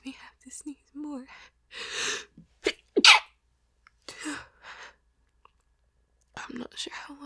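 A woman hiding and trying to stay quiet lets out a few stifled, muffled sneezes with sharp breathy gasps between them, close and soft, with whispered breaths around them.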